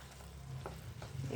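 Spinach cooked with cream (malai palang) frying in a pan gives off a faint, soft sizzle, with a few light stirring knocks scattered through the short stretch.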